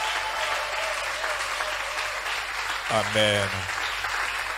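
Congregation applauding during a church service, steady broadband clapping throughout with a voice speaking and calling out briefly near the end.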